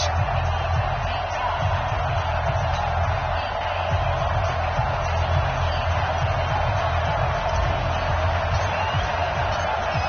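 A stadium crowd roaring in a Minnesota Vikings vs Dallas Cowboys football video game on PS4: a constant, dense wall of cheering and murmur, loud and unbroken from start to finish.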